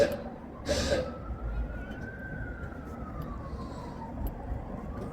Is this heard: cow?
no